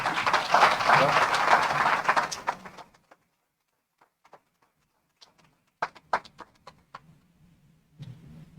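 Applause from a conference audience after a philosophy lecture, a dense burst of clapping for about three seconds that quickly dies away, followed by scattered faint knocks and shuffles in a quiet hall.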